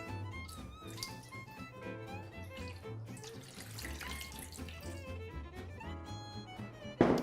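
Tap water runs steadily into a bowl while homemade vegan bread dough is prepared, a continuous splashing stream under background music, ending in a brief louder splash.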